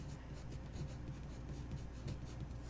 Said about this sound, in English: so you can even write on a template